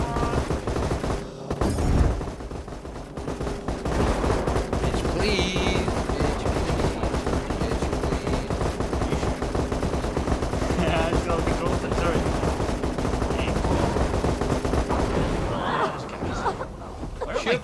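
Sustained gunfire from Borderlands 2 co-op play, rapid automatic bursts rattling almost nonstop for the whole stretch, with players talking over the shooting.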